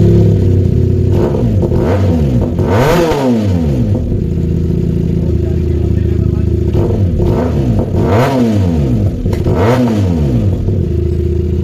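A QJ Motor SKR 400cc two-cylinder naked motorcycle engine revs loudly and close up in several rising and falling bursts, throttled up and back down over a steady idle, with no talking.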